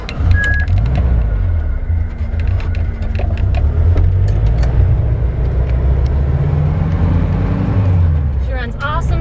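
A 1978 VW Beetle Convertible drives along with a steady, loud low engine drone and road noise that fills the whole stretch, while people talk over it.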